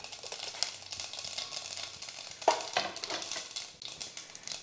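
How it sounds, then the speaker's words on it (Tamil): Mustard seeds and fenugreek crackle in hot oil for a Chettinad vegetable mandi, a continuous close sizzle with scattered sharp pops and a brief stir, no talking over it. "நல்லா கடுகெல்லாம் பொரிஞ்சிருச்சு."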